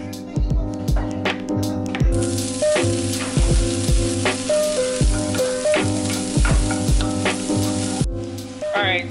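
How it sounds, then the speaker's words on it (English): Ground turkey, zucchini, carrot and cherry tomatoes sizzle loudly in a stir-fry pan with a steady crackling hiss and scattered utensil clinks, alongside some background tonal sound. "I ended up making a really big stir fry, 8 ounces of ground turkey, 2 zucchini squashes, 1 carrot, and like a handful of cherry tomatoes"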